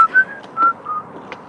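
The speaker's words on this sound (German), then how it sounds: "Ach, hören Sie mit der Pfeiferei auf." Someone whistles short, bright notes in a loose, broken rhythm, close by and moderately loud, with no talking.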